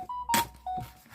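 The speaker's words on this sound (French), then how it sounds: "Ah, j'ai des notifs forcément." Phone notification beeps from an old smartphone being switched on: three short electronic tones in quick succession, clean and moderately loud, separated by soft handling noises and clicks.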